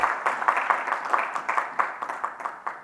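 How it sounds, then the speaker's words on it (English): Audience applause from a conference crowd at a talk on connected ecosystems, a steady mass of clapping with scattered sharper claps throughout, moderately loud and with no voices over it. "give a round of applause"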